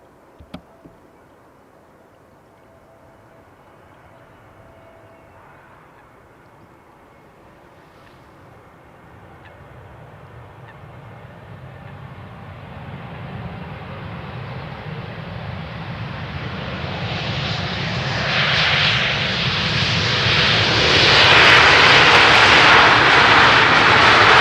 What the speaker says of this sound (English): A320neo coming in from Stockholm.